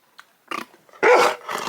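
A dog growls and gives a few short, close barks in quick bursts, the loudest near the end.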